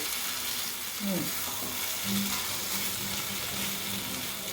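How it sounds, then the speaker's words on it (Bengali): Mixed vegetables with fried prawns and chilli paste are stirred in a frying pan over high heat, producing continuous sizzling with scraping stir strokes close up and faint hums of background noise. "ওটা দিয়ে এটা নাড়াচাড়া করছি। মোটামুটি ভাজা ভাজা হয়ে এসছে।"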